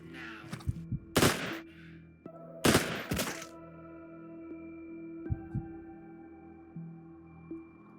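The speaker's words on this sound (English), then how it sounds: "Just quickly gun them down" Gunfire in the game Quasimorph: a few short, sharp shot bursts spaced apart over a low steady hum, with quieter thuds in between and no talking.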